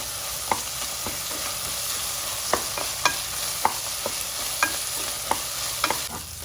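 Rajma fries in oil with ginger-garlic paste under a constant close sizzle, punctuated by regular sharp clicks of a spoon stirring against the pan, with no talking.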